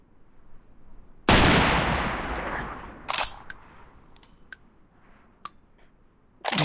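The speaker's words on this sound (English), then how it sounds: "slide the shell through in there, and then lift up the grip again. and then she's ready to fire." A shell-loaded gun fires a single loud, sharp blast that decays slowly, followed by metallic clinks and clacks of handling and a spent shell.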